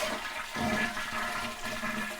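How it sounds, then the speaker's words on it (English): A household toilet with a running-fill problem is flushed, giving a loud, close, continuous rushing swirl of water throughout with no talking. "So you might have to flush once"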